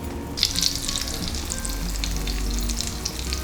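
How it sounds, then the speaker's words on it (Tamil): An egg is poured into hot melted butter in a pan, giving a sudden burst of crackling sizzle that settles into a steady, close frying hiss with small pops and no talk. "பட்டர் சூடாயிடுச்சு. நம்ம எக் வந்து ஊற்றிடலாம்."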